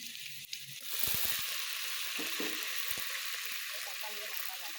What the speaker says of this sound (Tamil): வெங்காயமும் பூண்டும் நல்லா வதக்கிக்கிறோம்.